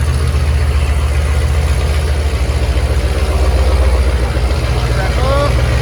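A 1000hp Jeep Trackhawk idling and creeping forward as it is moved, giving a steady, close, deep engine rumble that holds evenly throughout.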